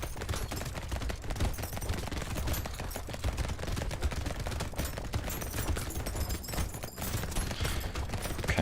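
Turrets in the video game Brotato fire in a dense, continuous rattle of rapid gunfire and impacts, a steady chaotic barrage with no pauses.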